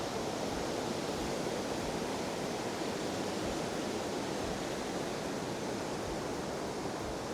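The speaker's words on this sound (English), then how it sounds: "That's the top of the waterfall." Waterfall at the Hermitage in Scotland, recorded from the top of the falls: a loud, steady broadband roar of rushing water, continuous and close, with no voices over it.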